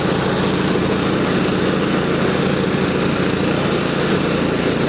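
A homemade DIY track sled's engine runs steadily with its new throttle, a loud continuous buzzing drone that holds at a constant pitch throughout, close to the microphone with no talking.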